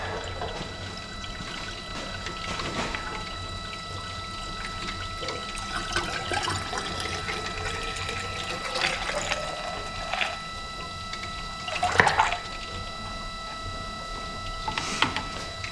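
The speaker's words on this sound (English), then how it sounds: "coolant topped off with water" Water is poured into a car's cooling system to top off the coolant, a continuous trickling and gurgling stream with occasional splashes, close by with no talking.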